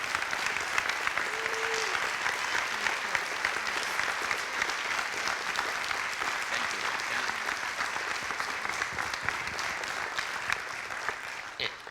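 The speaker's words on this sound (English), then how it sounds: "I'd like everyone to give a round of applause to Judge Phillips and Susie Brusa" Sustained audience applause for a judge and a colleague at an event, a dense, steady wash of many hands clapping that runs throughout and thins slightly toward the end.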